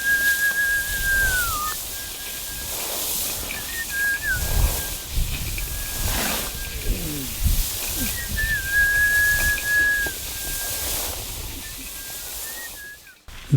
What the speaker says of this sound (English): The villagers have a tradition of whistling while working to encourage the wind to keep blowing